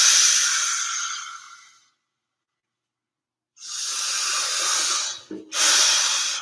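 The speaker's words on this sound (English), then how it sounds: "Take a breath or 2." Slow breathing during a yoga flow, close and airy: a long exhale that fades into silence, then another drawn-out breath and a short quick inhale-exhale at the end.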